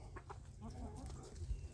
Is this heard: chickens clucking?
yes